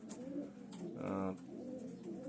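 Pigeons coo softly in short, throaty bursts, one louder rolling coo in the middle, close by.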